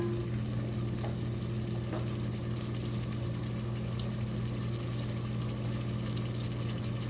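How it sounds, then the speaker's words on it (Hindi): Mutton sizzles steadily in a pot with onion and ginger-garlic paste for aloo gosht, a constant, close frying hiss with an underlying hum and no pauses. "गोश्त हमारा प्याज और अदरक लहसुन की पेस्ट के साथ काफ़ी मैंने भून लिया है।"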